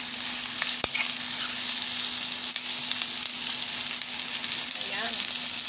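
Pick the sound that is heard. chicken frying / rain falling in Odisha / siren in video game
chicken frying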